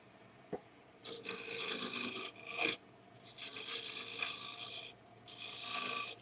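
Shaving down wood in a woodworking shop, with several long raspy scraping strokes separated by short pauses, fairly quiet and close, with no talking.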